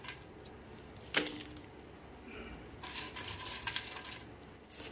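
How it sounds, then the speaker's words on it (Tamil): Fried mushrooms tipped into a gravy mixture in a pan and stirred, making a sharp metallic clink of utensil against pan followed by soft wet scraping and stirring, moderately near with no talk. "இதில் நம்ம வறுத்து வச்ச காளானை வந்துட்டு ஆட் பண்ணிக்கலாம்"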